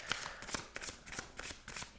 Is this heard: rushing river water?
no